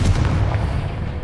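Confringo explosive spell blast in Hogwarts Legacy, a loud, heavy boom with a deep rumbling burst up front that decays over about a second.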